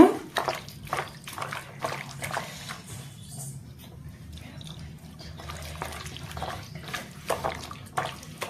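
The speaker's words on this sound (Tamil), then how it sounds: "கொஞ்சோண்டு தண்ணி ஊற்றிக்கோங்க" Water splashing and trickling into a cooking pan of liver fry in short bursts, with drips and light liquid sloshing over a low background hum.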